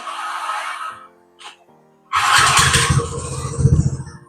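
A motorcycle fitted with a racing exhaust, idling and then revving up loudly and close by, its deep rumble rising after a brief quieter stretch with a short squeal.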